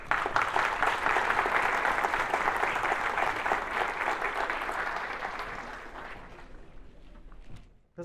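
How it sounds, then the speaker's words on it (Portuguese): Applause from an audience of accountancy students at a Dia do Contador lecture, a dense steady clapping that holds loud for several seconds, then thins and fades toward the end. "eu gostaria de pedir uma salva de palmas para todos vocês"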